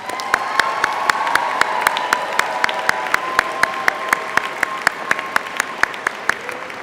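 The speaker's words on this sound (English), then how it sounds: "Please join me in applauding our first group of graduates." An audience at a STEM high school graduation ceremony applauds its first group of graduates, with sustained clapping and sharp individual claps standing out near the microphone, plus faint crowd noise.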